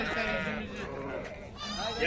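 A Kınalı sheep bleats close by at a livestock market, wavering calls overlapping with people talking nearby.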